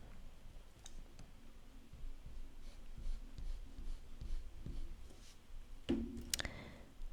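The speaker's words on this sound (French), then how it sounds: "Je vais gommer le trait de construction à l'intérieur pour que tu puisses avoir une" A rubber eraser scrubs out a pencil construction line on a paper drawing of a gift box: faint, soft scratchy strokes in short bursts, close and quiet, with a couple of light taps near the end.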